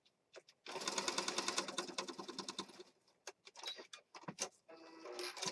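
Sewing machine stitching around junk journal pages in a quick run of rapid needle ticks, then several short stop-start bursts and scattered clicks, close and moderately quiet.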